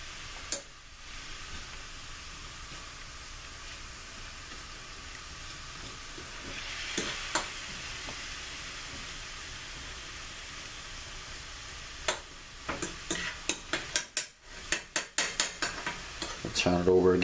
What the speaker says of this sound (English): So just keep turning it over and pulling the spinach off every minute or so.